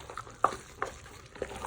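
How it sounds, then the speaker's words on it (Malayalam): Padukoottan curry being stirred in a pot, with a few soft scraping strokes spaced out over a faint simmering sizzle, close and quiet. "പോയി നമുക്കൊന്ന് ഇളക്കി ഉസാറാക്കണം."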